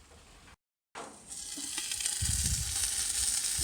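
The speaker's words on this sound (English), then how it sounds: "get it seared on all sides" Brisket sizzles and fries in a Dutch pot as it sears, the hiss building after a brief silence into a loud, steady crackle up close.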